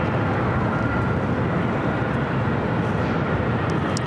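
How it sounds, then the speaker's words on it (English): Airbus A321neo arriving at LAX on runway 24 right, a loud, steady broadband jet roar that stays near and constant throughout, with no speech. "A321 Neo next up for arrival at 24 right."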